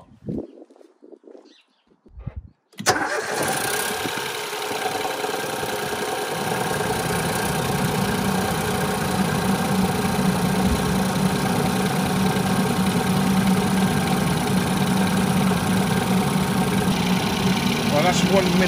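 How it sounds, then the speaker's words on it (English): A Ford Focus engine cranks and catches after a couple of seconds of quiet shuffling, then settles into a steady, loud idle that runs on unchanged under a low hum. "Right, time to start the car."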